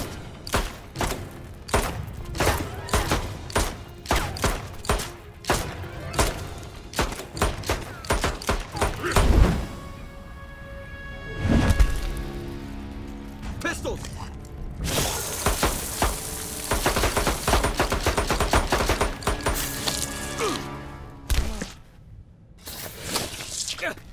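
A Mortal Kombat 9 cutscene carries rapid, loud gunfire: dense volleys of sharp shots and crashing impacts run almost continuously, layered with character voices talking over the action.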